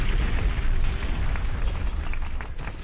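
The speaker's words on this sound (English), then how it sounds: "stop with the explosions" Explosion sound effects play on a livestream as a loud, continuous low rumble with crackling bursts, rolling on without a clear break and with no talking.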